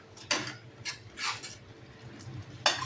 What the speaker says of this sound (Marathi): ह्याच्यावर मी झाकण ठेवते